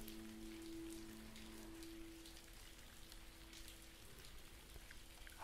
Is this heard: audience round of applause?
no